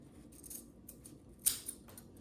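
Scissors snip through the end of a zipper on fabric, a single sharp close cut followed by a smaller click, set against quiet room noise with no speech.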